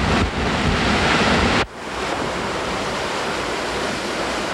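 Hurricane Andrew in 1992 drives a roaring wind over beach surf. A loud, dense rush of noise hits the mic, then drops to a slightly softer continuous roar after a sudden cut.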